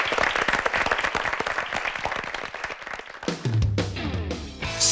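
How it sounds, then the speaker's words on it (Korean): An audience at a televised high school debate competition applauds two students after a one-on-one round, a dense, loud wash of clapping that fades toward the end as music comes in. "두 학생에게 박수 부탁드립니다."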